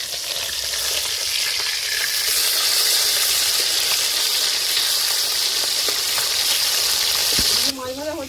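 Rohu fish pieces sizzle in hot oil with a steady, dense crackle that holds close and loud for several seconds, cutting off near the end as a brief voice comes in.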